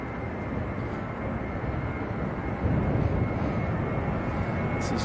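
A Jet2 airliner bound for Burgas, Bulgaria, at Manchester Airport gives off a steady, broad engine roar that grows slightly louder partway through, heard from a distance outdoors.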